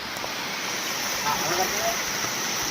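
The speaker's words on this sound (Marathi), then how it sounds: "सीन हा बघा धबधबा तिकडं आहे" Chorgalli waterfall running low after little rain, a steady broad rush of falling water close by, with faint talk and a few voices over it.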